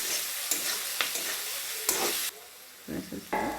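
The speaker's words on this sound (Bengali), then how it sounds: "সয়া সস আর ভিনিগারটা দিয়ে ভালো করে নাড়াচাড়া করে মিশিয়ে দিয়ে" Vegetables stir-fried with soy sauce and vinegar for veg fried rice sizzle loudly in a hot pan while a utensil stirs and scrapes in short bursts, the hiss cutting in and out.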